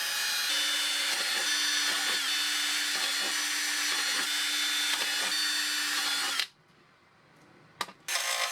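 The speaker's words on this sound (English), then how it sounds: "The fiberglass is pretty thick, so I'll need to drill some pilot holes first." A rotary tool drills pilot holes into a thick fiberglass dummy engine for a 33cc Gilmore Red Lion Racer model plane, a steady high whine with rhythmic grinding pulses that cuts out abruptly, then brief bursts follow.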